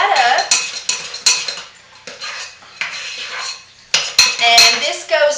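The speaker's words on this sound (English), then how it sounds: "just stir that up" A utensil stirring a soap mixture for peppermint candy embed soap in a hard container, repeated scraping and clinking strokes with irregular rhythm, close and fairly loud, no talk.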